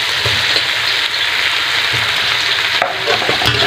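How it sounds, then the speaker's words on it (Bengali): Prawns and potatoes fry with biryani masala in a pan, giving a loud, continuous sizzle with a rain-like crackle and occasional scraping stirs, with no talking. "দিয়ে ভালো করে কষে নেব।"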